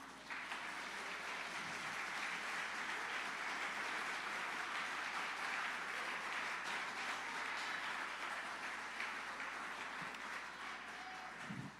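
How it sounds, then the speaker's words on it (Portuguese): A church congregation applauds during a sermon, with steady, dense clapping sustained for about twelve seconds at an even loudness throughout. "Aplauda esse Deus, meus irmãos."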